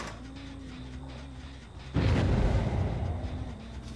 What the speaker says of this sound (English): I don't know if that explosion threw up right there.